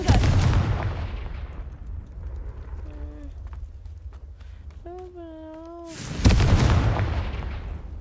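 The Confringo blasting spell goes off in Hogwarts Legacy as two loud, booming bursts at the start and end, with a quieter stretch between them that carries brief tonal game sounds and a voice.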